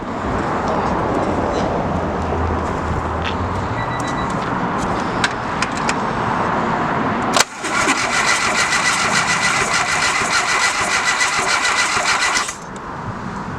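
A Honda EG car cranks and catches after a VTEC head swap and torque tech gasket fit, a sharp bang then a loud steady idle that runs several seconds before cutting off, with faint voices nearby.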